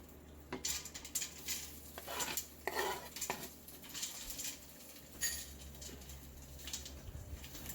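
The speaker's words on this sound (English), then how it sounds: "I've sliced the sausage and the onion and I'm adding it to the crock pot" Sliced sausage and onion tumbled into a slow cooker crock pot, giving faint scattered clinks, scrapes and soft thuds of a utensil against the ceramic pot, quiet and close with no one talking.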